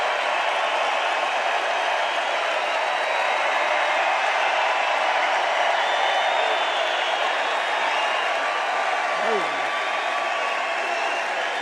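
Sustained crowd applause and cheering at a political rally, a dense, continuous roar of clapping from a large audience, steady and loud throughout.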